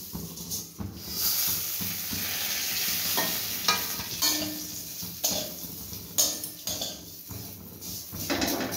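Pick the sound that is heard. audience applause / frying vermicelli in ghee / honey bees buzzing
frying vermicelli in ghee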